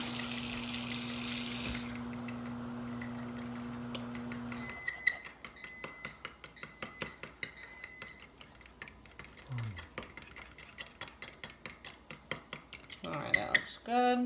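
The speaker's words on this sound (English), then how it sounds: "we're gonna just whisk these a little bit" Eggs whisked in a bowl, a fast run of rapid light clicking strokes of the whisk after a burst of running water, close, ending with a short voice.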